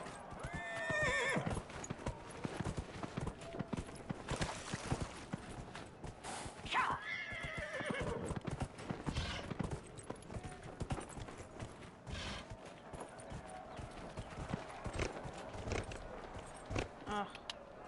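In the video game Dragon Age: Inquisition, a ridden horse clip-clops steadily with loud neighs and whinnies near the start and again a few seconds in, while someone talks over the hoofbeats.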